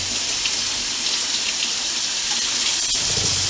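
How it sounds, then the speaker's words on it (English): Tap water runs steadily over a cabbage being washed, a constant close hiss that continues the whole time with no talk. "we're going to take it and wash it."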